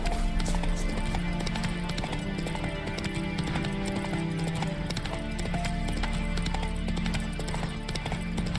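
Roach the horse galloping in a video game, a steady rapid rhythm of hoofbeats over a continuous bed of game sound, loud and sustained.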